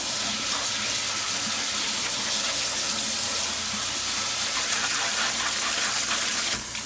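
Water runs steadily from a kitchen sink faucet while motorcycle parts from a Kawasaki KX100/KX85 get rinsed, a continuous broadband gush that stays loud and close for the whole stretch.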